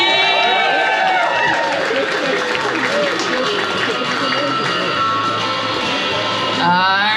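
An audience at a pin-up contest applauds and cheers for a contestant, a sustained wash of clapping and crowd noise while an announcer's amplified voice carries over it.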